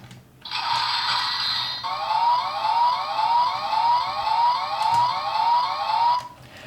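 A Power Rangers S.P.D. Delta Squad Megazord toy blares an electronic siren-like sound effect, a continuous warbling wail lasting several seconds before cutting off, loud and close.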